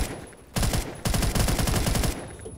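HK21 machine gun fire in the video game Phantom Forces, two sustained rapid bursts of loud automatic shots separated by a short pause.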